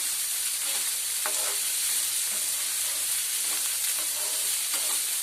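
Onions and curry ingredients for a munaga (drumstick leaf) curry frying in a pan, a steady close hiss and sizzle with faint stirring clicks throughout, no voices.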